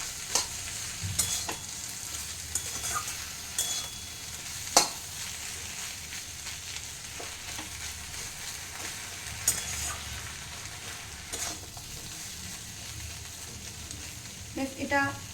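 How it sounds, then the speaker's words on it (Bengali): Okra fries and sizzles steadily in a pan on medium flame while a spoon stirs it, with occasional scraping clinks over a constant hiss, close and fairly quiet. "আবার আমি 2-4 মিনিট একটু নেড়ে দিলাম।"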